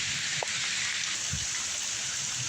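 Steady rain during a thunderstorm with a supercell approaching, a dense even hiss of drops on surfaces throughout, with a faint low rumble and a brief tap mixed in.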